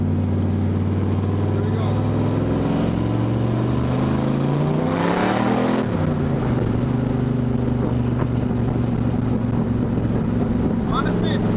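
A turbocharged Fox Body Mustang accelerates hard in third gear, its engine droning loud and steady with pitch swelling and dipping midway as the rear end loses grip, all at close range with no talk over it.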